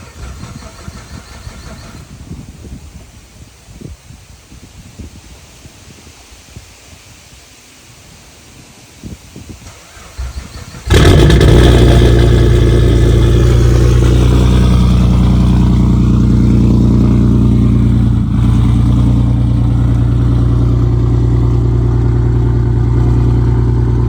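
Quiet rustling gives way to a big-turbo 2008 Saab 9-3 Aero XWD engine cranking and firing up abruptly, then settling into a loud, steady rumbling idle that continues to the end.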